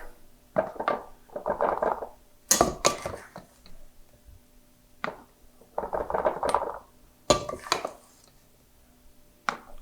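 Homemade pancake mix poured from a measuring cup into a storage container, heard as several soft, grainy rushing bursts with light clinks and knocks between pours, close and fairly quiet, with no talking.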